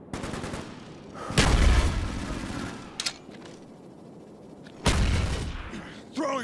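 A frag grenade is thrown and explodes in Call of Duty Black Ops online multiplayer on Nuketown, with two loud booming blasts amid gunfire and game voice callouts.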